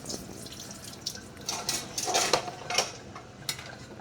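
A kitchen tap runs into a sink while freshly cooked penne is rinsed, making a steady rushing splash with brief clatters and surges of water, close and fairly loud.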